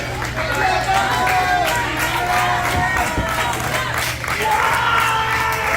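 A wrestling crowd at a live independent show cheers and roars steadily throughout, with a continuous dense wash of voices and some clapping beneath loud arena reverberation.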